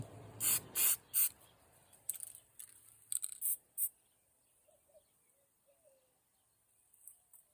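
A paint gun spraying a Dodge car part sends out a few loud, short hissing bursts, then lighter intermittent puffs. Faint bird chirps come from a quiet background.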